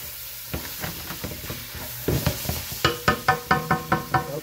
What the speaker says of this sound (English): Let's scrape the pan.